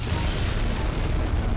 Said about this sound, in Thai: โอ้ระเบิดเลยอ่ะตัวระเบิดเลยครับเวลามันตายเนาะ